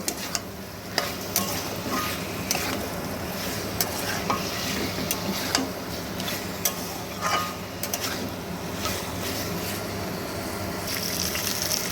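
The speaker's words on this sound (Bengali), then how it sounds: "আলু পটলগুলো দিয়ে খুব ভালো করে আবার এর সঙ্গে নাড়াচাড়া করে কষিয়ে নেব" Potatoes and parwal stirred and fried in spice masala, repeated spatula scrapes and clacks against the pan over a constant wet sizzle, close and unbroken by speech.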